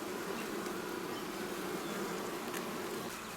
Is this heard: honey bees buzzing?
yes